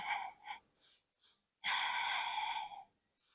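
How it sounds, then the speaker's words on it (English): Breathing during a yoga session: a short breath in, then a long, steady audible exhale, close and alone with no talk over it. "Inhale, exhale, inhale, exhale."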